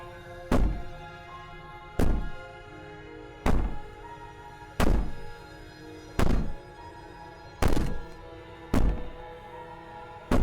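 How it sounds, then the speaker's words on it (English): Heavy banging on a wall in the video game Slay the Princess: about eight loud, booming thuds land at a slow, fairly regular pace, each ringing briefly before the next blow. "Maybe the banging and wailing will stop if you just don't pay attention to it."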